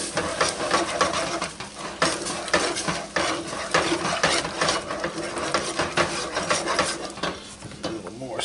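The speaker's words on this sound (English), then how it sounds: "I'm going to slowly add my stock. Slowly stir that in." Whisk or spoon stirring stock into a roux in a metal pot for seafood bisque, a steady busy scraping and clinking that runs continuously and close, with a faint sizzle underneath.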